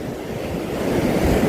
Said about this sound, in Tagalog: Ang lalaki pala ng alon.